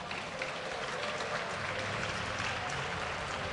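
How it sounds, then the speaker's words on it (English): A dense crowd applauds and cheers steadily at an LCS 2013 EU Summer esports match between Meet Your Makers and Team Alternate, a continuous wash of clapping with no break. "Give them a cheer."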